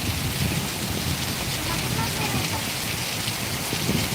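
Steady rain pours down in Valliyur during a thunderstorm with lightning, a dense, continuous hiss of drops on surfaces filling the scene evenly throughout, with no distinct thunderclap standing out.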